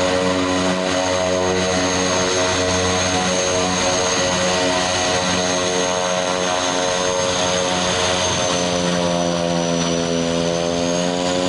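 A Pilatus PC-12 NGX turboprop taxis toward the runway, its engine and propeller making a steady, loud drone with a high turbine whine throughout, and the pitch shifts slightly near the end.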